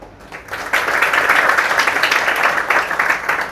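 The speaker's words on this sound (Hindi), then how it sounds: "मिस्टर मधुर बियानी जी, आप ताली बजाकर उनका स्वागत कर सकते हैं।" An audience at a prize distribution claps steadily to welcome the prize winners, a dense, moderately loud round of applause that swells and holds throughout.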